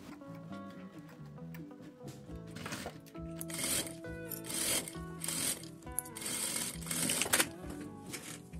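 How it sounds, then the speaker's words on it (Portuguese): A sewing machine stitching a seam around the lining of a fabric tea-bag holder, giving a quiet, fast mechanical whirring and rhythmic clatter in short runs, with soft rubbing of fabric and music in the background. "E agora eu vou passar uma costura com a distância de um pé de máquina."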